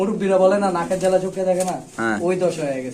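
Sirajee pigeons coo in a steady, close run of throaty calls, blended with ongoing talk from people nearby.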